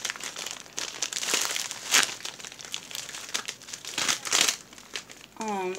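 Crinkly plastic packaging around a squishy toy is handled close up, arriving already ripped, giving loud rustling and crumpling bursts in uneven waves with brief pauses between.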